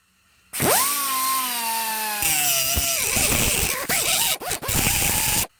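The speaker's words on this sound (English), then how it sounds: "Back to this grinding wheel or cutoff wheel." A grinding or cutoff wheel on a power tool spins up with a rising whine, then bites into metal in a sustained harsh grind that breaks into short bursts near the end.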